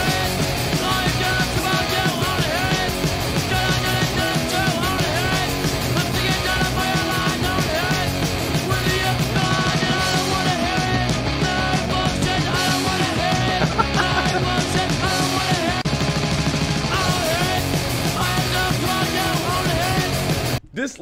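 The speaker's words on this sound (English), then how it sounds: "sounds like punk rock" A punk rock song plays loud and dense, with fast driving guitars, drums and a yelled vocal, continuous until an abrupt cutoff at the end.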